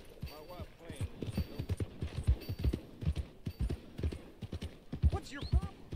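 Horse hooves clip-clop in Red Dead Redemption 2, a quick, uneven gallop-like patter of close thuds. A horse whinnies briefly near the start and again near the end, and talking runs over the hooves.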